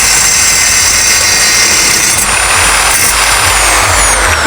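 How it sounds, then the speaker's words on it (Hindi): A makeshift angle grinder powered by a drill machine cuts through iron pipe with a loud, continuous high-pitched grinding whine that shifts in pitch midway, with no talk over it. "ड्रिल मशीन से लोहा काट दिया।"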